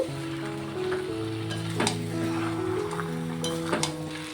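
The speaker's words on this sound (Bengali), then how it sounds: "মাংসটাকে দিয়ে মশলার সাথে সুন্দর করে কষিয়ে রান্না করে নেব" Mutton that was boiled in a pressure cooker is stir-fried with spices for a Bengali mutton kosha, giving a fairly faint, steady sizzle with periodic spatula scrapes against the pan. No one talks.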